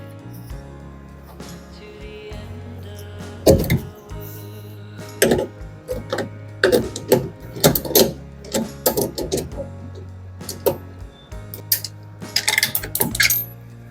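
A 14 mm socket wrench works on a Samsung DV80M5010QX dryer under repair, sharp metallic clicks and clanks in irregular bursts over a low machine hum.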